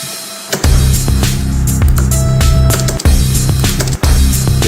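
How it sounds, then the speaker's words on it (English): A deep, washy crash cymbal hits repeatedly with a long reverberant tail, loud and splashy like it's ringing in a big room. "That was like my crash with a lot of reverb personally."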